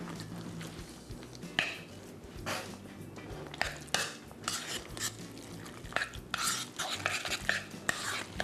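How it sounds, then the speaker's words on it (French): Ricotta cheese and salsa being stirred together in a bowl, with repeated scraping and clinking of a utensil in uneven bursts, close and with no talk. "J'ajoute ensuite le fromage ricotta, la salsa, et je mélange."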